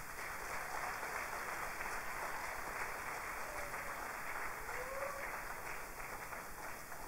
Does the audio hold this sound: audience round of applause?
yes